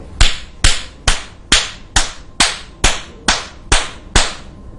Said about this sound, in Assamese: 10 মিনিট ক্লেপ কৰিব, চাপৰি বজাব